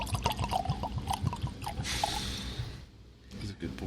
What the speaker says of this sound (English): Let's see what this pours like.